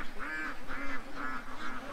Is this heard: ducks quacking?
yes